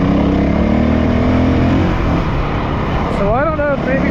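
Honda CRF450L dual-sport dirt bike engine running at steady revs, loud and close, with a higher whining rev sweep near the end and a voice talking over it.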